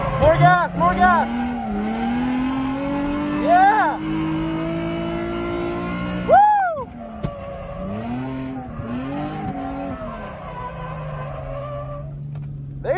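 A drift car's engine holds high revs on throttle during a lap at a drift event, droning steadily with rising and falling pitch swings and a brief squeal of tires, and a voice in the car talks over it.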